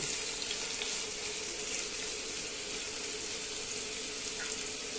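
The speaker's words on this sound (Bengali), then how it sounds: "দিয়ে আলুটা একটু আস্তে আস্তে" Potatoes fry slowly in hot oil for a banana flower dish, giving a steady, even sizzle that holds at one level throughout with no voices.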